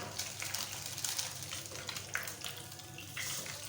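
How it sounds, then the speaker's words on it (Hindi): A teaspoon of fenugreek seeds sizzles in hot oil left over from frying fish for a fish curry, a continuous crackling hiss with brief pops, close and steady with no talking. "उसी ऑयल के अंदर मैं डाल रही हूँ जी 1 टीस्पून मेथी दाना"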